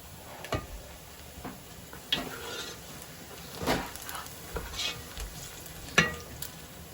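Quiet sizzling of onions frying in a pot, broken by several sharp scrapes and taps of a spoon stirring against the metal.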